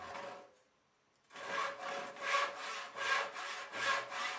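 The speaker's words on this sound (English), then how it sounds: "Two paired pieces of wood are cut from a sizable master" Hand saw cutting through a block of wood to make paired pieces for a Japanese sword handle and scabbard, a brief pause followed by rhythmic, rasping back-and-forth strokes, close and clear with no voices.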